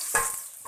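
Two chopped onions fry in a spoonful of hot oil, giving a brief close sizzle with two quick stirring scrapes in under a second.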